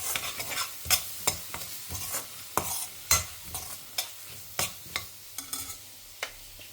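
Coriander powder, turmeric and chili powder sautéing in a pan with boiled potatoes, with repeated sharp scraping stirs over a faint sizzle, close and moderately quiet, no talking.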